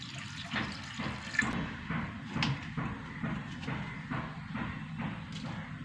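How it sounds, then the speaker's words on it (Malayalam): Water poured into a pan of sautéed onions and tomatoes, giving a steady hissing, splashing wash with rhythmic surges, close and moderately loud, with no talking. "ഇനി കുറച്ച് വെള്ളം ഒഴിച്ച് കൊടുക്കുക"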